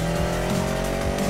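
A race car accelerating in the Need for Speed Most Wanted video game: a steady, loud engine roar that keeps going through the whole short stretch, with no talking.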